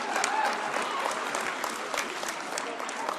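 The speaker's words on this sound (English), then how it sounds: "Can we give a round of applause to Jamie?" A political convention crowd applauding for Jamie, a broad sustained roar of clapping with crowd noise, steady and fairly loud from start to finish.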